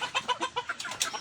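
Tiger breed chickens crowded in a cramped pen give a quick run of short, close clucks in an uneven rhythm, with no talk.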